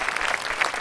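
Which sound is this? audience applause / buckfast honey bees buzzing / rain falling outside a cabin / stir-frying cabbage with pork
audience applause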